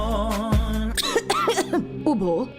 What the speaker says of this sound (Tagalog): Ubo, plemang nakabara, hirap sa paghinga.